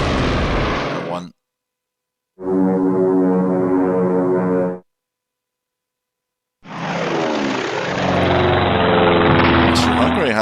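Propeller aircraft engines roar in a WWI strategy game, Strategic Command, in three loud sustained bursts separated by silent gaps, the middle one a steady droning hum and the last a rising, shifting roar.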